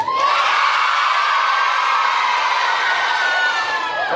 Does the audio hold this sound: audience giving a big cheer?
yes